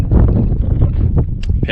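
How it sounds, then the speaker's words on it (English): Gusty wind buffets the microphone on Ironstone Mountain, Tasmania, low rumbling bursts rising and falling over a couple of seconds, with a few brief higher crackles near the end. "Quite windy though."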